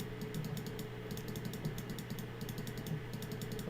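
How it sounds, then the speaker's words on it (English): A computer mouse is clicked rapidly in dense, fast bursts of small, crisp ticks that run continuously against a low steady background hum. "I'm clicking like crazy."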